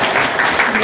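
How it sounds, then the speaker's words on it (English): Audience applause at a college admissions Q&A session in Detroit, a brief, loud, continuous wash of many hands clapping. "please clap for my brother"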